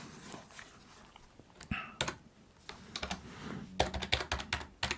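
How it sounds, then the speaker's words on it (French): Fingers tap out entries on a computer keyboard at a retro games shop counter, irregular close clicking bursts that speed up toward the end, with no talking. "on y va à l'ancienne avec le clavier"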